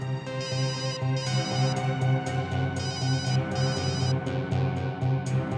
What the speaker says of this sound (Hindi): मेरी वाइफ का फोन है